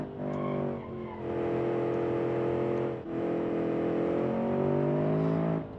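A small, low-powered car engine revs hard under throttle, its rising harmonic whine climbing steadily with a brief dip near the middle before building again, loud and close with no talking.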